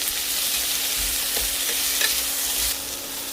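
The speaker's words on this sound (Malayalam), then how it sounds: "ഉരുളക്കിഴങ്ങ്, മുരിങ്ങക്ക, പച്ചമുളക്, വെളുത്തുള്ളി, സവാള ഒന്ന് വഴറ്റിയെടുക്കണം." Potato, drumstick, green chilli, garlic and onion sautéing in oil in a pan for egg aviyal, a steady close sizzle with soft stirring scrapes and no voices.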